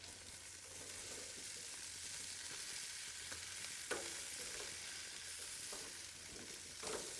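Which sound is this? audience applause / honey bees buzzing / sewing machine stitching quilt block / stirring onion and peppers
stirring onion and peppers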